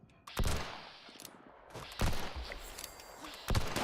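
Bursts of gunfire in the video game Fallout 76 sound in three loud volleys of rapid shots, with quieter stretches and faint game sounds between them.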